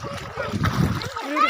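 Water splashing nearby in short bursts while children and an adult talk over it, on an outing with kids.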